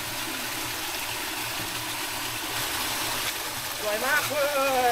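A gentle stream of clear, cool water flows through a cave, making a steady, close, even wash, with a voice joining near the end.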